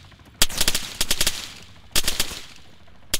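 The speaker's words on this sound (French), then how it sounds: "Oh, on tire dessus." Bursts of automatic gunfire in the Arma 3 military game, two rapid clusters of sharp shots with a lone shot at the end, fairly close and loud with no talk.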